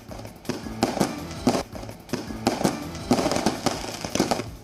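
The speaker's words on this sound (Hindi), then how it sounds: "मुंबई के आर्थर रोड जेल के बाहर जमकर आतिशबाजी हुई।" Fireworks go off outside Arthur Road jail in Mumbai during a street celebration, a dense run of loud crackling bursts and bangs that comes in waves with no pause.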